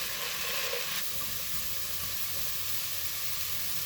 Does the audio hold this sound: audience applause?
no